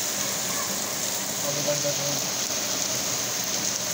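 Heavy rain pours steadily onto a street in Lahore, a dense, even hiss that fills the whole scene, with someone briefly speaking over it.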